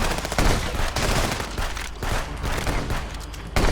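Sustained burst of video game gunfire in Contraband Police, a dense fusillade of rapid shots running almost continuously at high volume, with a brief lull near the middle and a fresh loud volley right at the end.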